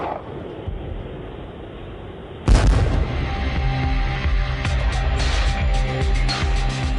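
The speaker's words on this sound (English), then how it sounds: "the Marines use the Dragon guided anti-tank missile and the vehicle-mounted tow missile launcher to destroy enemy tanks" A Dragon guided anti-tank missile or vehicle-mounted TOW launcher fires with a sudden loud whooshing blast after a quieter rumbling lead-in, followed by a sustained roaring, crackling tail.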